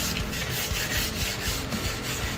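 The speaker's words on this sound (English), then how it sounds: "So just scuffing the surface of both of these before I put them on." Close, steady abrasive rubbing as two enclosure parts are scuffed by hand before gluing, a continuous rasping scrape with slight rhythmic pulses and no talk.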